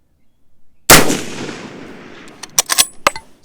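A single sharp rifle shot from a James River Armory 1903A4 firing 175 gr match ammunition cracks loudly and close, then decays with a rolling echo, followed by a few brief clicks and knocks.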